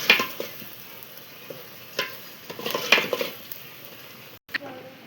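Vegetables, okra among them, are stirred in a frying pan, making soft sizzling under scattered scrapes and clinks of a utensil against the pan, with a short silent gap near the end.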